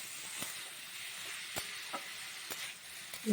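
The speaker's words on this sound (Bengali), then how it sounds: "আগে সবজিটাকে ভালো করে ভেজে নিতে হবে" Vegetables sizzle and fry in a pan with salt and turmeric, a steady close hiss broken by a few scraping stirs.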